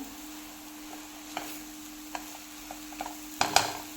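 A spoon stirs sugar into a coconut vadi mixture, soft scraping strokes over a faint steady hum, ending in a short louder clatter of stirring and scraping.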